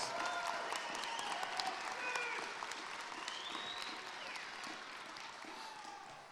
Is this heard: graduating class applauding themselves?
yes